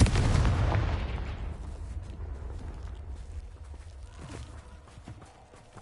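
Confringo explosive spell cast in the Hogwarts Legacy video game, a loud booming blast at the start that rolls off into a long fading rumble with scattered crackles, and a fresh hit right at the end.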